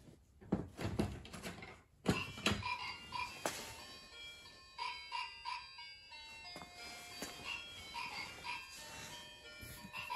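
A big frog at a school outing to a mini zoo croaks in repeated short bursts, mixed with tonal electronic-sounding beeps and clunks, fairly close and moderately loud.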